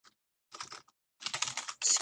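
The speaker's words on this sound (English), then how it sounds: "I'm gonna type in" Typing on a computer keyboard while entering code for a Roblox exploit, heard as three short bursts of rapid, close keystrokes separated by brief silences.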